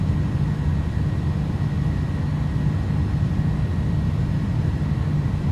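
Airbus A310 engines drone steadily in flight in Microsoft Flight Simulator, a loud, even low roar with a faint high whine, continuous throughout and with no talking.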